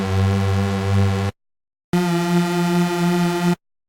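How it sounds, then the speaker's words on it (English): Retro-style Serum synth patch built from two detuned oscillators with unison voices and phase modulation, a sustained buzzy harmonic tone in two held notes separated by a short silence, loud and alone. "So we're getting a little bit of phasing between these two different oscillators"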